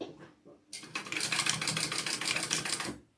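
Sewing machine basting backpack fabric, a close, fast rattling run of stitches that starts abruptly after a quiet moment and holds steady for about two seconds before stopping.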